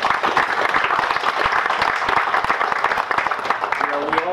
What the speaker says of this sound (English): We should all give him a round of applause.